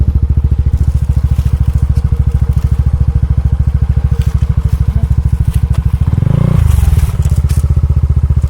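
Motorcycle rolling down a steep mountain road in Mountain Province with hot brakes, a close, loud steady engine drone with rattling and scraping, and a brief louder rumble near the end.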